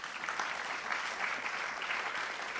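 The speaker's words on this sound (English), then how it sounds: "Applause." Applause from an audience at a Volt Europa general assembly, a 2024 political gathering: dense, steady clapping that holds at an even level throughout, with no speech over it.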